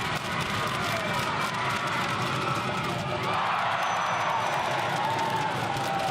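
A crowd at a National Basketball League game between the Manawatu Jets and Taranaki Airs roars steadily through a tense free-throw moment in an indoor arena. The dense, sustained noise swells in the second half, with a commentator talking over it.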